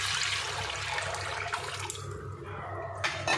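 Soaked tamarind pulp water pours into a frying fish curry, a steady close splashing gush of liquid that tapers off, with a brief clatter near the end.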